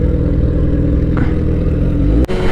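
Loud, steady engine drone of a Suzuki GSX-S 750 naked motorcycle while riding, close and continuous, with a brief dip near the end.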